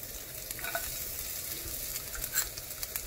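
Cumin, ginger and garlic fry in a pan with a quiet, close sizzle and light crackle, punctuated by a few soft stirring scrapes and spatters, with no talking.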